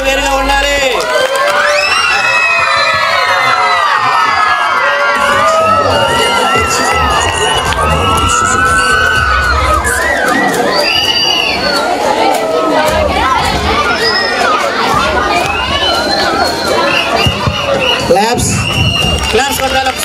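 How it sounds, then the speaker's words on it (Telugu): Children's crowd at a Teachers' Day celebration cheering and shouting loudly and continuously, a dense excited roar with overlapping voices throughout. "అభినందనను మీ యొక్క హర్షధ్వానాల మధ్య తెలియజేయండి"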